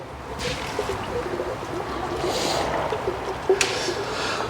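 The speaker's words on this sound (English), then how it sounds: "Anything to look at while the oil's draining?" Engine oil draining from a car during a service, a soft steady trickle and pour under a workshop hum, with a couple of faint clinks near the end.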